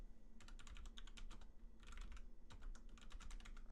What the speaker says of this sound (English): In the code editor, type the following.